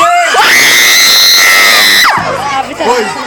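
Loud crowd of school students screaming and cheering at a funk show in a school in Brasília, a sustained high shrieking roar that drops off, then scattered yells.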